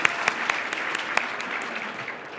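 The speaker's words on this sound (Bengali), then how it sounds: "ওর জন্য একটা তালি দাও।" A short burst of clapping from a small group of people at home, quick overlapping hand claps lasting a couple of seconds at a steady, moderate loudness.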